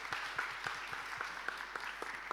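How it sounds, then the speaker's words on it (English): Sparse, faint clapping from a small group at an open data awards announcement, a handful of separate claps in a loose rhythm, quiet and distant. "I think a round of applause"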